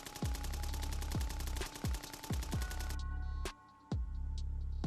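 Sustained automatic gunfire aimed at retreating soldiers: rapid, loud bursts of machine-gun fire with heavy booming shots at a steady rhythm, a brief lull, then more booming shots.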